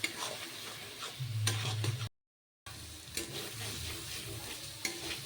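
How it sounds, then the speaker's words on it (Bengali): Spice paste frying in oil in a pan while being stirred, a soft sizzle broken by scraping stir strokes and light clicks, with a brief total dropout midway, no talk. "আমি আগে মশলাটাকে ভেজে নিই খুব ভালো করে মশলাটাকে ভেজে নেব"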